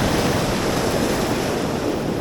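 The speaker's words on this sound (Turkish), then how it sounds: "Dalganın ya da çok sert vurması işimi çok zorlaştırdı." Heavy sea surf pounding hard against a rocky shore during winter spearfishing, a loud continuous roar of crashing waves mixed with wind buffeting the microphone, with no voices.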